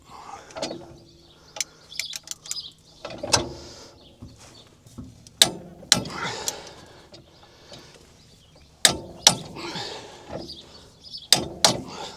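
A wrench cranks on the spline of a New Holland H7220 tractor, giving sharp metallic clanks and ratcheting clicks in irregular bursts with quiet gaps between, close by and without talk.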